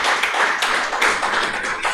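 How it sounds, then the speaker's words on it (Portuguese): A church congregation claps steadily for several seconds, a dense, even wash of hand claps filling the hall at close range with no voices over it. "Você pode aplaudir o Senhor nessa noite?"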